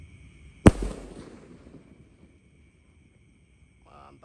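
A Bima Sakti 5 firework rocket goes off with one sharp, loud bang that rings out and decays over about a second, then quiet outdoor background and a faint noise near the end.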